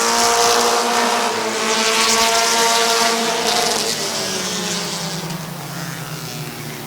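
Race cars thunder around the oval at Midvale Speedway during a heat race, a continuous loud engine roar with shifting pitch as the field passes, steady and close with no talk.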